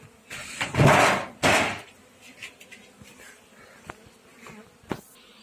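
Honeybees buzz close by at a hive in winter in a couple of loud passes, then fainter drones and scattered light knocks follow in a quiet setting.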